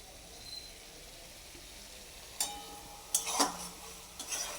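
Masala spices are stir-fried in a pan for a rohu fish curry: a faint, low sizzle, then a few brief scraping strokes of a spatula against the pan.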